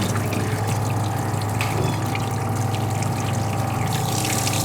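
Water runs steadily into the full-size sink of a Joolca hot water camp shower, a continuous close splashing stream with no talk over it.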